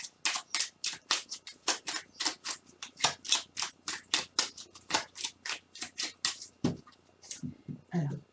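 Oracle cards being handled and laid out during a French summer 2019 Libra reading: a long run of quick, crisp riffling and flicking strokes in steady rhythm, close and fairly loud, ending with a soft low shuffle.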